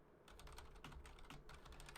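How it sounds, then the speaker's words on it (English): Rapid, muffled keystrokes on a computer keyboard typed with gloved hands, a quiet, continuous clatter of close keys with no talk. "typing in gloves is difficult."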